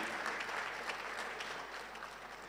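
An audience at a university research week event applauds the organizing committee, a steady wash of clapping from a crowd that holds at an even level throughout.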